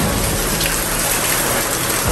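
Heavy storm rain pours down with gusting wind, a dense, loud, continuous wash of noise near a lighthouse, with no voices.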